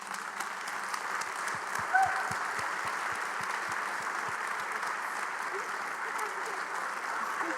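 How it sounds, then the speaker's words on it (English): Sustained applause from a large audience for a panel of speakers, a steady dense wash of clapping that swells briefly near the start and carries on evenly throughout. "can you continue that applause for your entire panel?"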